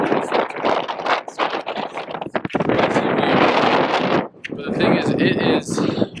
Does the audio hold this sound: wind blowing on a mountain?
yes